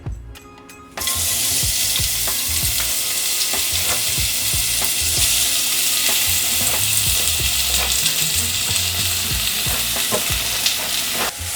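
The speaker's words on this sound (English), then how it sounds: "we're just gonna go down with a little bit of avocado oil, not too much. And then we're going in with our onions." Onions hit a pan of hot avocado oil for hot dogs with onions in red sauce, bursting into a loud, steady, close sizzle with crackling pops that continues without letup and without talk.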